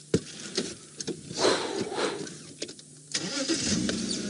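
Up close, a safari vehicle's engine rumbles and revs as it drives around a fallen tree in the bush. The engine rises and falls unevenly, broken by knocks and jolts as the vehicle bumps over rough ground.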